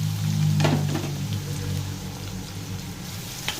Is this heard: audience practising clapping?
no